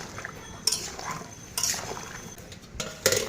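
A metal lid clatters onto a cooking pot of potatoes and peas with several sharp clinks spaced through quiet kitchen background, no voices.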